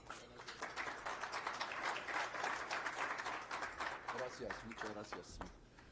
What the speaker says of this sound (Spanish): les pido por favor que recibamos con un muy fuerte aplauso